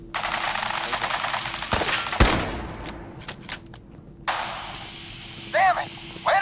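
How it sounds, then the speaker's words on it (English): Gunfire in Fallout 4, a dense burst of machine-gun and rifle shots with sharp loud cracks, then scattered single shots. Game characters shout over the shooting. "open fire!"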